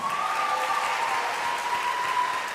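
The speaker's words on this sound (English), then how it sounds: "Give yourself a round of applause" A crowd at the Youngstown Chaney High School 2022 commencement applauds in a steady, sustained wash of clapping, even in loudness from start to end.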